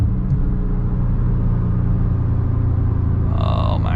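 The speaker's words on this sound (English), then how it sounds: "I want to start in fourth" A tuned 665 hp BMW M140i xDrive pulls hard from fourth gear on the autobahn, producing a steady low rumbling drive and engine drone from inside the cabin, with a brief higher tone appearing at the end.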